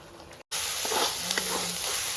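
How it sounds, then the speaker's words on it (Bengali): Chicken mince sizzles steadily in a hot pan, a bright continuous frying hiss with a few soft stirring scrapes, interrupted by a brief cut near the start. "মাংসটা মোটামুটি ভাজা হয়ে এসছে, আমি নুন দেবো পরিমাণ মতো"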